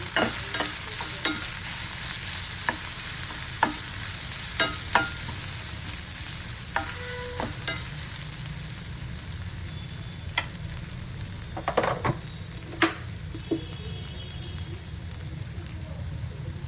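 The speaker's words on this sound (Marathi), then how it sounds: "हळद घालायची चांगलं मिक्स करून घ्यायचं" Ridge gourd bhaji being stirred with turmeric in a pan, a steady sizzle of frying under scattered clinks and scrapes of the spoon against the pan, with no talking.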